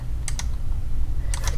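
Computer keyboard keys are pressed while working in PE Design 10 embroidery software: a quick pair of crisp clicks, a pause, then another close pair, heard near and alone.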